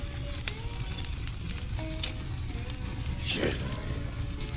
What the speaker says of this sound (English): One by one, we're just gonna put them over the grate. Get a little sizzle on these bad boys.